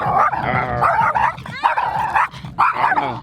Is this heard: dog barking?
yes